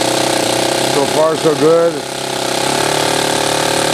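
A Saito twin-cylinder model engine runs steadily with a buzzing, harmonic drone, and its pitch wavers briefly as the throttle is advanced. Someone speaks briefly over the engine.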